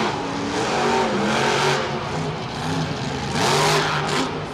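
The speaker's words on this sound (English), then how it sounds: "This truck's really being thrown around like a rag doll." Monster truck engine at a Monster Jam show in MetLife Stadium, 2013, roaring and revving steadily with rising and falling pitch as the truck is thrown around, loud and close with crowd noise underneath.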